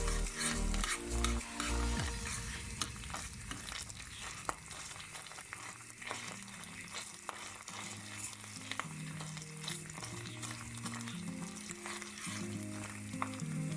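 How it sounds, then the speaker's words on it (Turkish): Tomato paste sautéed in oil in a pot for bean pickle soup, a steady close sizzle with repeated scraping and stirring strokes and light utensil taps, with a low tonal hum underneath. "İki buçuk yemek kaşığı yağ ve bir yemek kaşığı salça koydum. Kavuruyorum."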